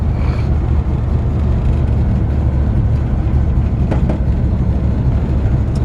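A 1954 Chevy 3100 shortbed pickup with power steering, on its original chassis and still warming up, drives along with a steady, loud engine drone and road rumble throughout.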